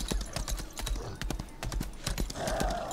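Horse hooves clip-clop at a steady trotting rhythm while riding back through the Lost Ark game world, close and distinct, with faint game ambience underneath.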